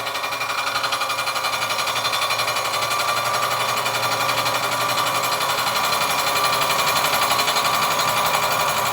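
A machine cutting an aluminium Volvo manifold during refacing makes a loud, continuous rapid chattering rattle, close and steady the whole time, with no talk.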